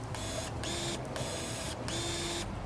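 Cordless electric pruning shears, one of a Ryobi, AEG, RIDGID and Milwaukee lineup, whir in two short motorized bursts as the blades close on the trigger, each burst ending with a brief rising whine, heard close and alone over low room noise.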